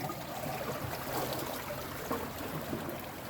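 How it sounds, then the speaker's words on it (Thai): Water flows steadily under a small bridge (khua) beside flooded rice fields, a continuous broadband trickling and gurgling rush that stays even and close throughout, with no talk over it. "น้ำไหลผ่านมาในขัวนี่แหละ"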